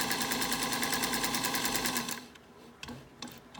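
A sewing machine named Marjorie stitches in a fast, even mechanical rattle for about two seconds, then stops, leaving a few faint clicks and handling knocks.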